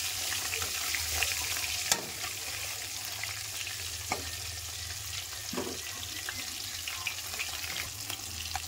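Two koi fish fry in hot vegetable-frying oil and get flipped, a continuous bubbling sizzle broken by a few louder clacks and splutters of turning and stirring, with no speech.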